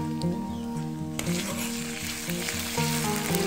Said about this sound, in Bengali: তেল দেওয়ার পরে আমি পেঁয়াজটা দিয়ে দিয়েছি। পেঁয়াজটা যখন কিছুটা ভাজা ভাজা হয়ে যাবে